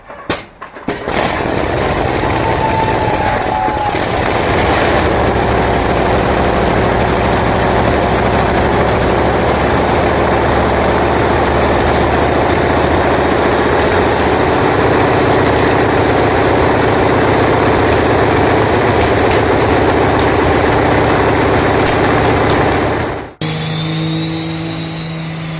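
A legendary old Russian nine-cylinder engine, a massive rare radial, runs steadily and loud, a dense continuous roar that starts abruptly near the beginning and holds for over twenty seconds before cutting off.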